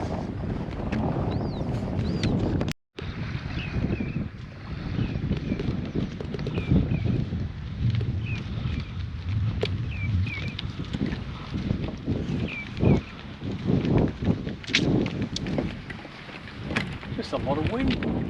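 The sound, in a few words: strong wind on a jetty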